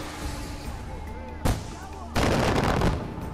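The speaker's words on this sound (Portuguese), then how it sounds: "É um míssil que explode no ar." Mortar fire and explosions in the Far Cry 4 video game, a sharp blast followed by a longer, louder rumbling burst over steady background game noise, with someone talking.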